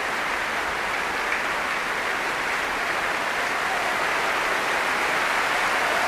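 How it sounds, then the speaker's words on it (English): Sustained audience applause fills the hall at the opening of the 1991 Henry Wood Proms season, after a performance of Elgar's The Dream of Gerontius, as soloists come out to bow; a dense, steady wash of clapping with no talk. "come out to take the applause"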